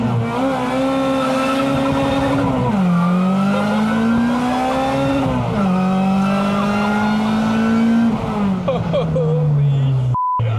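A K24-swapped, supercharged, all-wheel-drive Honda mini-truck revs hard and loud through rising gear pulls, its engine pitch climbing and dropping between shifts with a high supercharger whine, heard up close.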